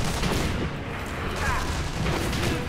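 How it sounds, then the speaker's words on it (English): Gunfire from the video game Sniper Elite V2 crackles in continuous rapid volleys of shots. A voice murmurs faintly beneath the din. "Who's shooting at him?"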